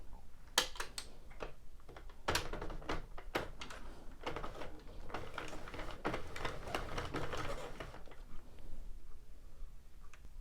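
A Sentro or Addi plastic circular knitting machine cranked through rows of blue yarn for a baseball beanie, giving a steady run of rapid clicking, ticking needle clatter with brief pauses, close and fairly quiet, alone.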